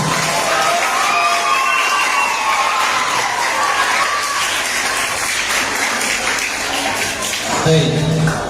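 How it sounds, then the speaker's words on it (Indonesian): A school Christmas celebration crowd, from elementary and junior high students, gives loud sustained applause mixed with cheers and children's shouts, while a voice carries on over the noise. "Sekali lagi tepuk tangan untuk kemuliaan Tuhan."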